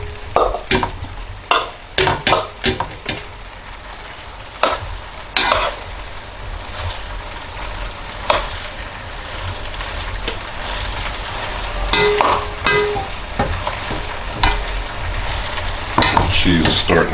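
Cheese is being stirred into macaroni in a pot, giving soft wet squelching and scraping with a few sharp clacks of the utensil against the pot, irregular and close, no voices.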